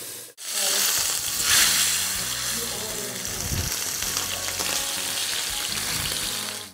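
Beef ribs searing in a disc pan with parrilla salt, a steady loud sizzle and crackle of frying that runs unbroken for several seconds with no talk.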